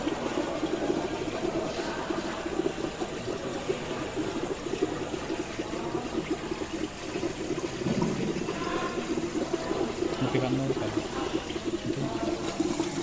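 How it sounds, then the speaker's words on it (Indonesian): Freon refrigerant rushing out of an air conditioner system through the opened high-pressure valve, a steady loud hiss and gushing flow that runs continuously without pause. "keran yang merah atau high pressure agar mempercepat pembuangan freon"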